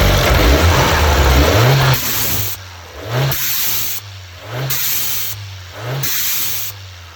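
A car engine with a Forge blow-off valve revs up repeatedly, each throttle blip followed by a sharp hissing vent as the valve releases, in about five close, loud rev-and-whoosh cycles.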